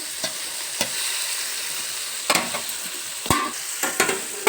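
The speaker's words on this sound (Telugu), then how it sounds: "ఇవైతే మంచిగా ఫ్రై కానిద్దాము" Ingredients frying in a pan, a continuous loud sizzle with occasional spatula scrapes and taps against the pan, close up, with no voices.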